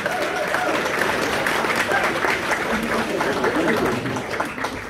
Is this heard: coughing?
no